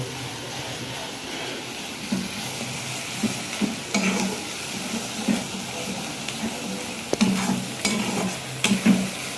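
A spatula scrapes and stirs ingredients in a pan for the Bengali dish muri ghonto, with repeated rhythmic scraping strokes over a steady low sizzle, near and moderately loud throughout.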